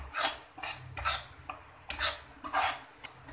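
A spoon scrapes and stirs through besan roasting in desi ghee in a cooking pan, making repeated rhythmic rasping strokes at close range with no voices.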